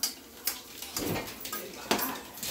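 Spoon scraping and clinking against a pot while stirring a roux of onion and flour, a few separate metallic knocks and scrapes over quiet background.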